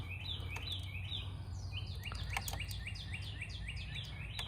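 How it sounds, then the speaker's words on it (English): Birds chirp in Cooper Creek and Flat Rock Park in Columbus, Georgia, a faint chorus of repeated high, sweeping calls over a soft outdoor rumble. "Birds are happy today."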